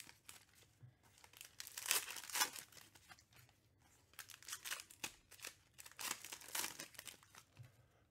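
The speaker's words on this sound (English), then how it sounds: "Lint Roller ASMR" Lint roller pulled and peeled during a baseball card box break, a series of close, quiet crinkling and tearing bursts of adhesive sheet, irregular in rhythm with short pauses between strokes.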